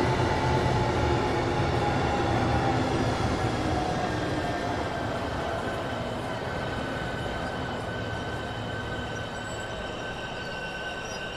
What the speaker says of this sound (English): Where is this train traffic now? This is like train traffic.